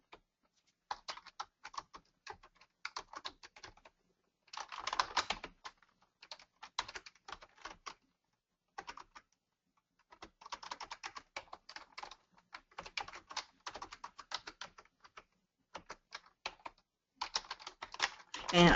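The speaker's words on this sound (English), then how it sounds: "And I hate to keep typing like this." Computer keyboard typing in bursts of rapid clicking keystrokes, close and fairly quiet, with short pauses between runs while entering data into fields.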